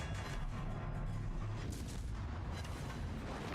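Naval gunfire and explosions in a warship video game, a dense, continuous low rumble of booming salvos and blasts without clear individual hits, moderately quiet, with no speech.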